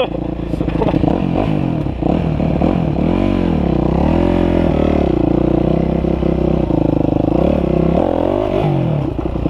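A dirt bike engine revs hard during wheelies, loud and close, its pitch rising and falling in wavering surges over a continuous mechanical roar.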